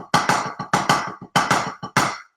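Drum paradiddle played on a snare with a double accent on the 1 and the E: crisp, close strokes in short groups, the accented hits noticeably louder than the soft taps between them.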